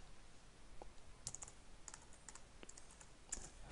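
Keys on a computer keyboard tapped while entering Logo commands, a handful of sparse, quiet clicks spread over a few seconds against a faint hiss.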